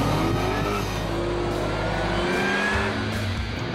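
Australian FPV GT V8 muscle car accelerating hard with a loud, raw engine roar and tires squealing and scrabbling, the pitch shifting as it gathers speed, close and continuous with no talking.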